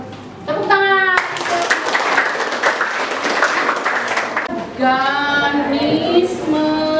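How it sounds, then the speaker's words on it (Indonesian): Classroom applause from a group of children clapping together, a dense burst of claps lasting several seconds with children's voices speaking before and after. "Tepuk tangan."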